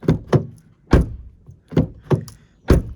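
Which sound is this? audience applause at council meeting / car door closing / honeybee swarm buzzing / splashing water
car door closing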